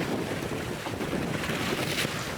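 Strong wind at sea aboard a sailboat bound from Sardinia toward the Balearics, a loud, steady rush of wind noise on the microphone mixed with the wash of waves around the hull.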